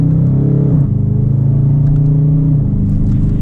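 A 2019 Dodge Challenger Stars and Stripes Edition accelerates hard in manual mode, its loud, deep engine note rising and then dropping sharply at two quick gear shifts before climbing again.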